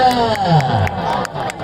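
Audience at a public gathering clapping and cheering, a dense, loud crowd roar running continuously with voices talking through it.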